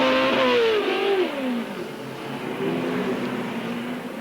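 NASCAR stock cars at the 2000 Winston 500 accelerating away from pit road, a loud nearby engine roar with a pitch sweep that drops as the car passes, then more engines droning at a distance.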